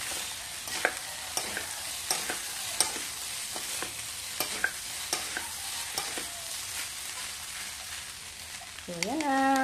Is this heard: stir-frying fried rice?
yes